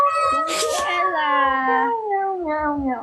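A voice imitates a cat, drawing out a few high, wavering meows with strong harmonics, up close and lively, amid the chatter of a casual live stream.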